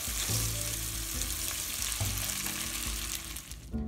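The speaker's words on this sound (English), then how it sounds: "A couple more stirs and I'll plate this up." Penne with sautéed mushrooms, asparagus, garlic and oil sizzles steadily in a hot pan while a utensil stirs and scrapes it in a few distinct pushes, close and fairly loud, with no talking.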